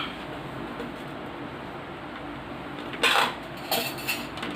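Metal spoon clinking and scraping against a plate during an eating challenge, over a steady low room noise, with two brief bright bursts of contact near the end.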